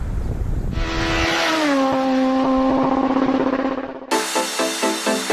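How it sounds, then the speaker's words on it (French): Small off-road radio-controlled model cars race at a modelling championship, their engines holding a loud, steady, high-pitched whine that drops in pitch, then giving way to a rapid buzzing pulse of another car passing close. "On commence tout de suite sur les chapeaux de roue avec les petites voitures pour le modélisme tout-terrain."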